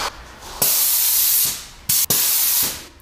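An inexpensive lightweight airless paint sprayer with a fine 3.11 tip blasts paint in loud, close hissing bursts, with one long spray, a short one and a final longer pass, separated by brief pauses.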